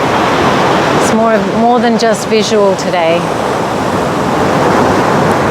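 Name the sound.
ocean waves on beach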